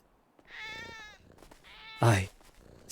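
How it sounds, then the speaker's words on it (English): A cat meowing in a roleplay video game, two drawn-out plaintive meows in a row followed by a sudden louder yowl, close and clear. "I slipped and kicked a cat"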